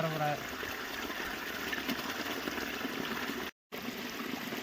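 Water flows steadily through a canal used for fishing, a continuous broadband rushing and trickling wash that holds a fairly even level throughout, with a brief dropout near the end.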